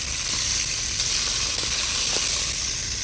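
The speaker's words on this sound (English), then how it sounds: "And then I'm going to go in with the sausage, and it's the same thing. I'm just getting a little color on them." Italian sausages brown in a hot pan with a steady, close sizzle and a constant bright hiss that carries on evenly throughout.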